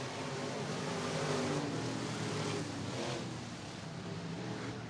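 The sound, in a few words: race cars on the back straightaway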